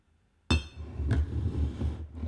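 A glass water container for ink is moved across a desk, starting with a sharp knock and a clink, then a short run of rattling contact and a second faint clink.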